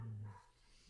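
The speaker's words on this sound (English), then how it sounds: "Is your dog objecting to my analysis? A dog barking." A dog gives a single short bark up close at the very start, followed by quiet room tone.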